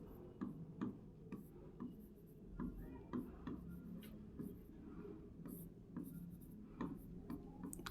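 Chalk or marker writing on a classroom board, with repeated short scratchy strokes and taps in an irregular rhythm, close and moderately loud over a faint room hum, no talking.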